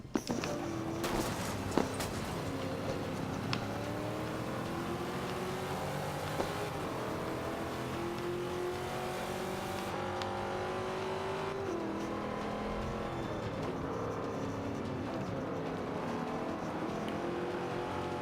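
A racing car engine in Forza Motorsport 5 drones and revs continuously, its pitch rising and falling through gear changes over a sustained roar, with a few sharp knocks early on and no speech.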